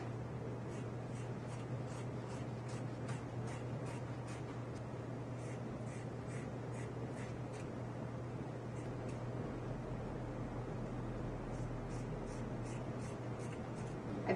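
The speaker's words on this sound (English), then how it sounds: "I'm going to cut the sleeves off of it, the top off, and then I'm going to cut this in half" Scissors snip through a cotton button-up shirt to take off the sleeves, a faint, steady run of small crisp cuts in bursts over a quiet background hum.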